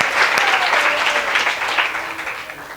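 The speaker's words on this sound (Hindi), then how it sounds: "अब जोरदार ताली से स्वागत हो इसके लिए भी" A crowd at a Holi celebration gathering claps steadily in welcome of a prize winner, dense applause that fades slightly toward the end.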